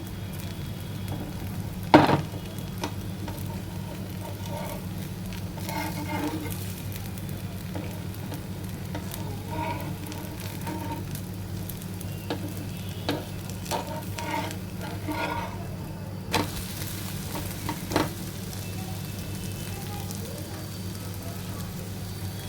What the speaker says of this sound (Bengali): আমি একটু উল্টিয়ে পাল্টিয়ে দুদিকে একটু ভেজে নিচ্ছি